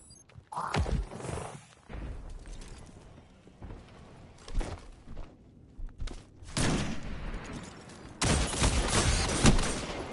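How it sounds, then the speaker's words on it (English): Gunshots in a PvP shooter game come as irregular bursts of loud, harsh firing with mechanical clatter between them, ending in a sustained dense volley over the last two seconds. "I missed my first two shots"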